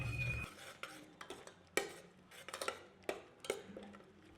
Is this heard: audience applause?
no